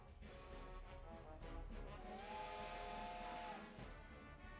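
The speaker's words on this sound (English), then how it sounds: "The whistle blows again" A steam train whistle blows in a visual novel game sound effect, a hissing steam rush rising into a sustained tonal whistle held for a couple of seconds before fading back into hiss.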